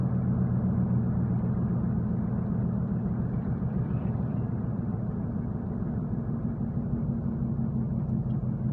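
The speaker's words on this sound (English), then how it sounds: "I'm going to take my foot off the gas here, so it starts to slow the truck down and downshift naturally" A Dodge Dakota pickup truck coasts off the throttle and downshifts on its own, a steady low engine rumble and road drone with no sharp changes, continuous and fairly close.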